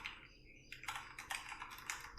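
Someone types on a computer keyboard while coding JavaScript, with quick, irregular clicky keystrokes coming in small bursts, close and moderately quiet with no talking.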